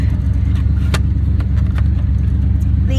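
A classic show car's engine runs as it is started and pulled out, giving a loud, steady, close rumble that holds for the whole stretch, with no one speaking.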